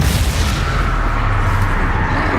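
Confringo spell blast in Hogwarts Legacy during a fight with Ranrok, a steady booming, rumbling explosive roar that fills the whole stretch at loud, even level with no talk.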